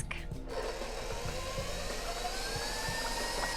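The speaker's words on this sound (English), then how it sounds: "We need to whisk this for a good couple of minutes before we see those peaks." Cream with sugar and vanilla is whisked in a bowl into whipped topping, a steady whirring rush with light, regular ticking strokes, close and even.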